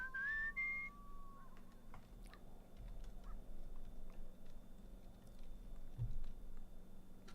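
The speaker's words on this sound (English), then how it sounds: "I'll whistle." A person whistles in the video game Where the Water Tastes like Wine, a short rising tune near the start that fades out, leaving a low rumble of background ambience.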